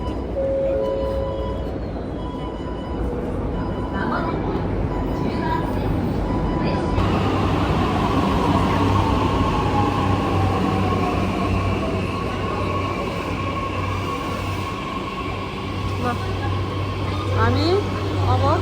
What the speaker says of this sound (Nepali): हामी अब ट्रेनमा जानेछौँ